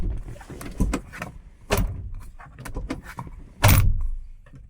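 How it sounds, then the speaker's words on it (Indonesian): A car door on a Daihatsu Sigra / Toyota Calya shuts with two solid, close thuds, each with a short metallic latch click, over quiet rustling and handling noise. "Kita tutup pintu"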